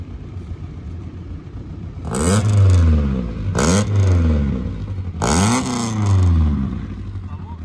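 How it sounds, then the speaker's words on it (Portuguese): Car engine with a modified, louder exhaust revs hard three times in quick succession, each burst rising and falling loudly up close over a steady idle. "Dá lá uma gazada, entra mesmo."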